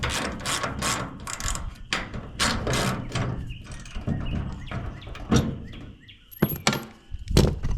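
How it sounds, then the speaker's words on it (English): A ratchet wrench works on a wrecked John Deere 8300 tractor, giving close, loud bursts of rapid clicking with metallic clunks between strokes. "Time to get the ratchet."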